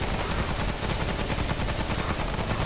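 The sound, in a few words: gunfire in video game Remnant: From the Ashes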